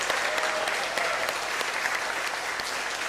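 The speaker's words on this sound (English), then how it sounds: "Big round of applause for our planning committee" An audience at a FIRST Tech Challenge CENTERSTAGE season kickoff applauds the planning committee, a dense, steady roar of clapping that stays loud and even for the whole stretch.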